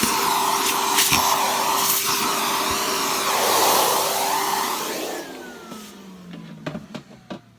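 A Hoover Junior 1346a upright vacuum cleaner's motor runs with a loud, steady whine and rough roar, then switches off and winds down, followed by a few scattered clicks and knocks.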